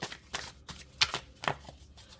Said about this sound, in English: I'm going to shuffle this a little bit